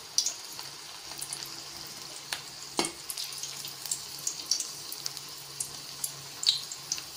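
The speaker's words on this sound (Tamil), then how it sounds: "எண்ணெய் காயுது, இப்போ நம்ம போடலாம்." Bread balls fry in hot oil over a low flame, giving a quiet, steady sizzle dotted with small crackles and pops, with no talking.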